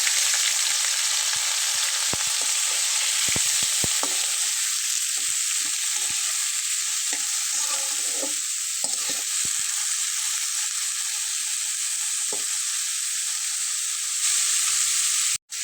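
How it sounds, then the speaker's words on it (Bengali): Steady oil sizzle from cumin seeds frying in a pan, continuous and fairly loud throughout, with a few soft stirring knocks and no voices. "জিরাটা যেন পুড়ে না যায়, জাস্ট শুধু ভাজা হবে"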